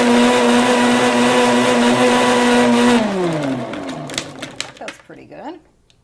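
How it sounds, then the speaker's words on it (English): A high-end blender loaded with ice hums loudly at a steady pitch for a few seconds, then winds down with a falling tone. Scattered clunks and brief voices follow before it goes quiet. "You want it totally blended, all that ice."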